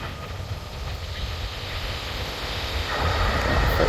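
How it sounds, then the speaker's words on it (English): A train passes nearby outdoors, a steady broadband rumble and rush that swells louder toward the end, with no talking over it. "And here comes another train."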